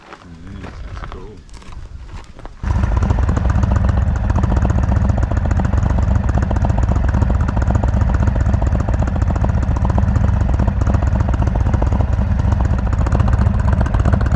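An Indian Chief Dark Horse motorcycle engine rumbles into a steady, loud idle after a brief quieter moment, running continuously up close.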